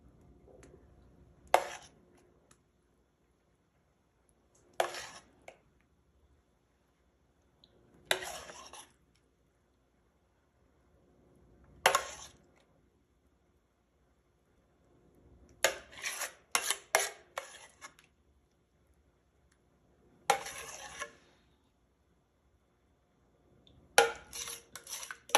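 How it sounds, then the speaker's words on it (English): Several separate bursts of spoon-on-dish scraping and clinking as topping is spooned over a German chocolate upside-down cake, with quiet pauses between each scoop and no talking. "now it says to just spoon this over the top."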